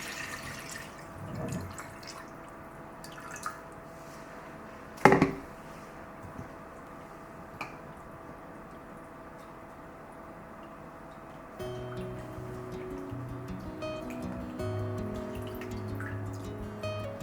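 Water drips and trickles while chicken wings are rinsed in a kitchen, a quiet setting broken by a few scattered drips and one louder splash, then a low steady running sound.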